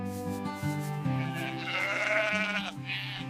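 Sheep bleating inside a farm enclosure, several wavering calls following one another at close range, one voice overlapping the next with no break between them.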